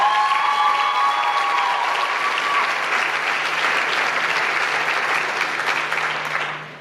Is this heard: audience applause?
yes